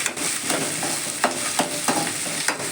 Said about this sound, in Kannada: ಶುಂಠಿ ಬೆಳ್ಳುಳ್ಳಿ ಸ್ವಲ್ಪ ಪೇಸ್ಟ್ ಮಾಡ್ಕೊಂಡ್ಬಿಟ್ಟು ಇದರಲ್ಲಿ ಒಗ್ಗರಣೆಗೆ ಹಾಕೋಬೇಕು.